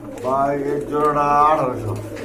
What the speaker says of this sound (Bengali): খুবই সুন্দর চমৎকার কোয়ালিটি সম্পন্ন কবুতর